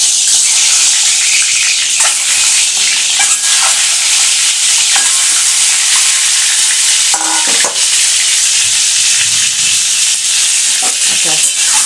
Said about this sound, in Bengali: আমি একদম ডিমগুলোকে ছেড়ে দিচ্ছি।